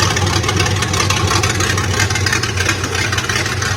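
A 1971 Nissan 240Z engine cold-starting and running without a choke, a loud, close, steady idle with a low throbbing exhaust pulse and no voices over it.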